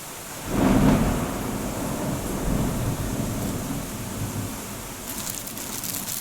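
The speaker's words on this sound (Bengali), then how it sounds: "প্রচণ্ড বৃষ্টি হচ্ছে বাজ পড়ছে" Heavy rain with thunder, a deep rumbling roll of thunder near the start over a steady loud wash of rainfall that continues throughout.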